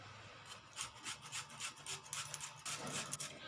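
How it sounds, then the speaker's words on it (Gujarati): Carrots being grated by hand for dosa batter, a quiet, rhythmic series of rasping strokes that repeat steadily at close range with no talking. "તો ગાજરને આપણે છીણી લઈશું."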